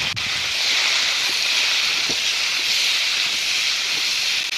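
Tomatoes and vegetables fry in a pan, giving a steady, loud sizzling hiss that holds evenly throughout with no talking.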